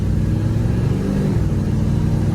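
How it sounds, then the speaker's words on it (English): A 1973 Chevrolet Corvette with a 454 big-block engine accelerates hard, a loud, steady low-pitched roar close by with no talk over it. "so we can open up that big block a little bit"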